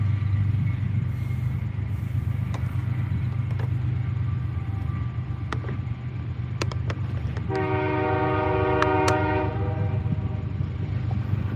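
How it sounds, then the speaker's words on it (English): A train rolls past close by with a continuous heavy rumble of railcars, and its horn sounds in a sustained blast partway through. "there's a train right there. And I'm gonna allow the train to pass"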